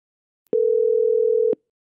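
A single steady telephone tone on a desk phone line, clean and loud, holding for about one second with sharp clicks at its start and end, alone with no talking.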